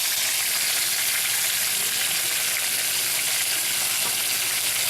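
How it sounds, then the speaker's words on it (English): Pork chops sizzle on a hot grill, a dense, steady hiss with faint crackle, close and loud with no voices. "I'm just continuing to flip these over and move the pork chops to the hottest part of the grill"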